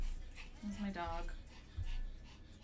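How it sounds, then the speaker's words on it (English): A pet dog indoors gives short whimpering and panting sounds with a soft bark-like yelp, close and fairly quiet, over steady room noise. "I apologize if the dog bark scared anybody."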